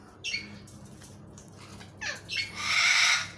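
A galah parrot gives several harsh, raspy squawks, a short call first, then a pair, ending in a louder drawn-out screech, close by against a quiet background.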